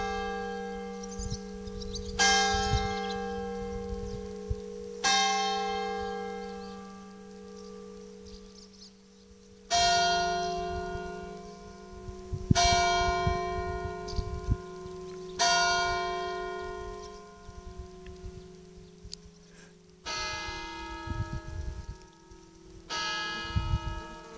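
Church bells of the village church at Magnières ring out noon, a series of about ten loud resonant strikes spaced a few seconds apart, each with a long humming decay overlapping the next.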